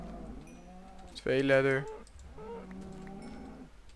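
A cow on a cow farm in Minecraft gives one loud, drawn-out moo in the middle. Quieter speech sits before and after it, along with soft keyboard clicking.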